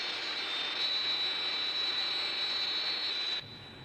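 A jet target-towing aircraft flies past as a steady, loud roar with a high engine whine, holding evenly before dropping off sharply near the end.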